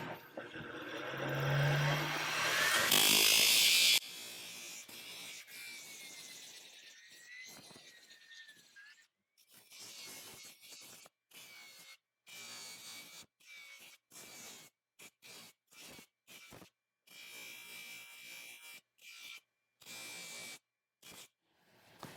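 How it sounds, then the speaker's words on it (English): An angle grinder screams loudly for a few seconds, grinding off overlong screws on a steel horse hospital plate, then drops away into a faint, stuttering workshop hum with scattered gaps. "So my screws are a little long, we just grind them off."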